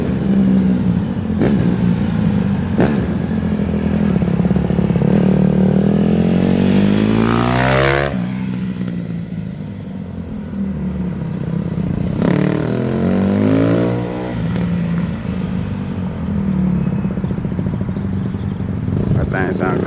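Honda 150R dirt bike engine revving close by, its pitch climbing and falling in two long sweeps over a steady loud idle, with people talking over it.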